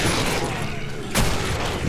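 Gunfire in the video game Killing Floor during a Halloween hillbilly horror event: a dense, loud shot burst near the start, then a sharp second crack partway through, over continuous game noise.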